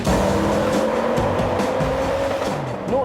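An Audi RS6 estate car, the most powerful estate car in the world, roars on snow in the French Alps, its engine loud and close as the tires squeal repeatedly in wavering tones.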